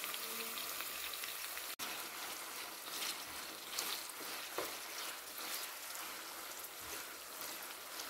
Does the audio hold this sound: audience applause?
no